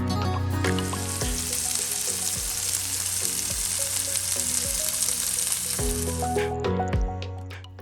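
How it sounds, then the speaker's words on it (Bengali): Chicken fries on medium-high heat in a pan, a loud, dense sizzle running nearly throughout with repeated low thuds of stirring over it, fading out at the end. "তিন থেকে 4 মিনিট মিডিয়াম টু হাই হিটে চিকেনটাকে ফ্রাই করে নিচ্ছি।"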